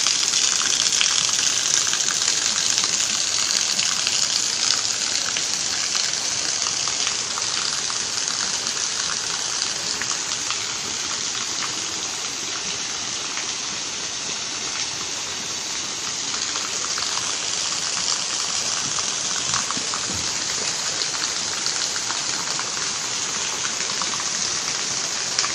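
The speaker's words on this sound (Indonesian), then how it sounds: "Nah, ini air terjun ya teman-teman" A waterfall pours continuously, a broad steady hiss and rush of falling water heard close up, with no talk over it.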